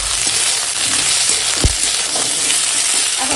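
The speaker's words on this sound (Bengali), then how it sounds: "এখন দিয়ে দেবো আদা রসুন বাটা, দিয়ে অল্প সময় নেড়ে নেবো।" Ginger garlic paste sizzles in a pan with fried onions and chilli, a loud, steady frying hiss broken by a single dull knock of the stirring spoon midway.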